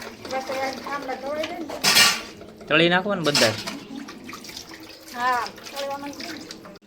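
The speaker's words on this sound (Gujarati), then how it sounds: "હવે તો ઠામડા ધોઈ નાખો પહેલાં પહેલાં બધા છે ને વાસણ ધોઈ નાખે" Dishes and steel utensils washed under running tap water in a Gujarati home kitchen, with clattering pots and splashing mixed with someone talking nearby.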